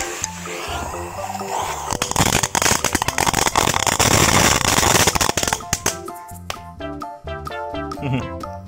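A colorful ball firecracker, relit after failing, bursts into a dense, loud crackling fizz lasting a few seconds, with music playing before and after.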